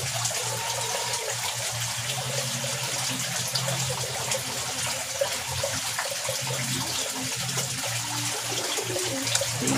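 Water is scooped and poured into a pan while preparing fish feed pellets for a pond, a steady continuous splashing and trickling that runs throughout without speech.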